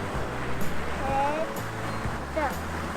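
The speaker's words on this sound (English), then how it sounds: "It's a waterfall." Waterfall at Lake Katherine, a steady broadband rush of falling water close by, with a low engine-like hum and faint voices talking over it.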